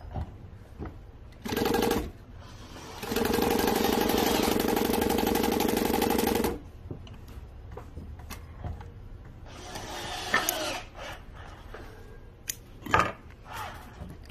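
Industrial walking foot sewing machine stitching with Strong Bond T70 thread and a size 20 needle: two runs of loud, steady mechanical whirring, one short and one about three seconds long, with quieter handling clatter and knocks between.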